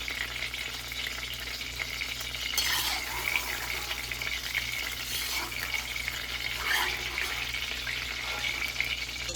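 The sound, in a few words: eggplant frying in oil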